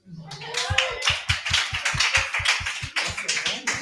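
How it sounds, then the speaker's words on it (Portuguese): A small audience at a Brazilian church formation talk claps in a quick, regular rhythm for several seconds, crisp and close, with voices chattering over the applause. "Aplausos para o Rafa"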